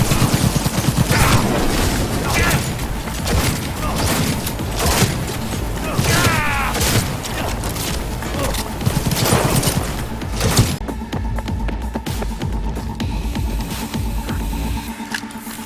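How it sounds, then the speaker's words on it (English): Heavy automatic gunfire in the Cyberpunk 2077 video game: loud, rapid volleys of shots and mechanical clatter for about ten seconds, then a quieter hum of tones. "Under heavy fire!"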